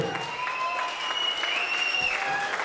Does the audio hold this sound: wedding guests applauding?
yes